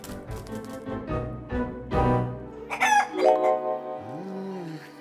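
A rooster crows loudly nearby, a drawn-out cock-a-doodle-doo that rises and falls, mixed with clucking fowl and other bird calls.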